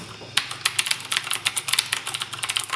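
A Razer BlackWidow Ultimate mechanical keyboard is typed on in quick, uneven bursts of sharp, close clicks after a brief quiet start.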